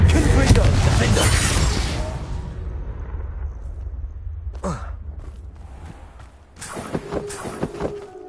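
A blasting spell goes off in the Hogwarts Legacy video game with a loud, heavy burst that rumbles and fades over a couple of seconds, followed by sharper magical cracks and impacts as a voice shouts spell names.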